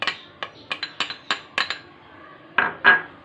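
A utensil clinks against a bowl while oil is mixed into flour for homemade donut dough: a quick, uneven run of about ten bright taps, a short pause, then two louder knocks.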